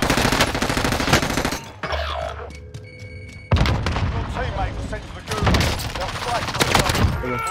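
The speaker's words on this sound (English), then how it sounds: "I have like 7 teams shooting at me right now." Heavy Call of Duty gunfire from several teams at once: dense, overlapping automatic bursts and booming shots pour in loud and close, break off briefly, then return in sustained volleys.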